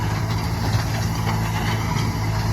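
A John Deere 5095M tractor engine runs at a fixed speed to drive a PTO-powered hoe, giving a steady, loud, unchanging drone with a low hum and no talking.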